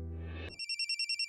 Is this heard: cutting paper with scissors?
no